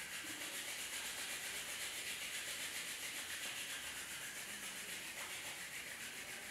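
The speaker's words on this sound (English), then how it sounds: "Release your hands and rub your palms each other." Palms rubbed together to warm them during a home yoga session, a soft continuous dry friction hiss that holds steady for several seconds, close and alone with no talking.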